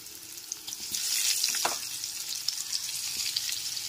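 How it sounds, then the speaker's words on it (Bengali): Salted, turmeric-coated potato pieces frying in oil already used for frying fish, giving a steady close hiss and crackle with a brief louder surge in the middle, no voices. "মাছ ভেজে তুলে নেওয়ার পর ওই একই তেলের মধ্যে আলুর পিসগুলোকে দিয়ে দেব।"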